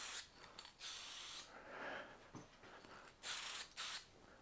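Spray paint hissing onto Honda CT110 motorcycle parts in several short bursts and longer passes, close but quiet, with brief gaps between sprays.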